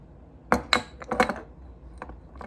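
A spoon scoops instant coffee (Nescafé) into a cup with a few close, sharp clinks and scrapes, two strong taps followed by lighter ones, quiet otherwise.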